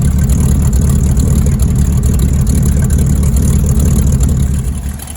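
A 1980 Ford F-150 with a 351 Windsor V8 runs steadily on its newly installed carburetor, a loud, continuous low rumble up close that eases off slightly at the very end.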